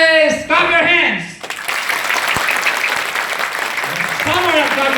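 Students playing Simon Says clap their hands together in a busy classroom, a dense, steady patter of many claps that carries on under a teacher's voice, which is heard before and after the clapping.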